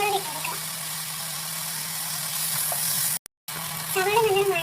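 Onions and squid masala sautéing in a pan for a Kerala-style squid roast, a steady close sizzle with faint stirring, briefly cut off, then resuming.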